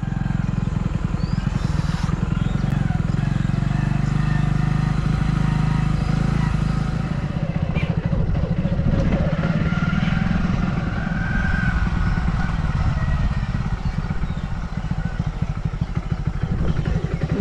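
A motorcycle engine idling and rumbling up close near a field as the bike is parked, a continuous low throb with some clatter, under occasional talk.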